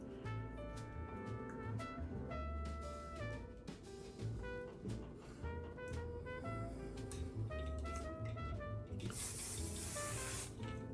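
A spray bottle mists water onto hair in a wet set: a short, bright hissing burst of spray near the end, heard over steady background music.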